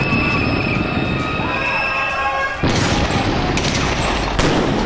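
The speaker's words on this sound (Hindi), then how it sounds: "पुलिस न सिर्फ आंसू गैस के गोले छोड़ रही है, बल्कि डरा देने वाली फायरिंग कर रही है।" Police firing at a riot, heavy overlapping bangs and booms from the crowd area, loud and dense throughout the few seconds, with a sharp surge of noise partway through and a constant roar of crowd behind it.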